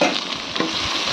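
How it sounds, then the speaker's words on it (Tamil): Onion, garlic and curry leaves tempering in hot oil, a brief burst of close, loud crackling sizzle with a stirring scrape. "இப்போ வெங்காயம், பூண்டு, கருவேப்பிலை சேர்த்துக்கலாம்"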